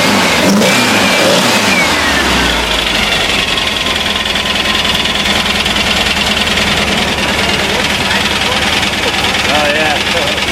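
A VW 2110cc engine with dual Dellorto 44 carburetors, freshly rebuilt, revs loudly and continuously up close, a steady engine roar filling the whole stretch, with people talking over it.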